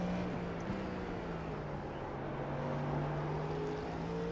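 An LMP2 prototype race car in the iRacing simulator drones with a steady engine tone and shifting pitch under continuous road noise, no talk over it.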